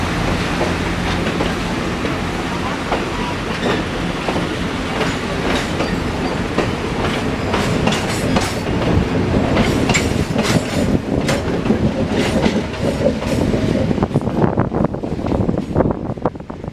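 The L&N 1835 steam train pulls away from Parrish with a loud, continuous rumble and a steady clickety-clack of wheels on rail, heard up close with gusts of wind buffeting the microphone.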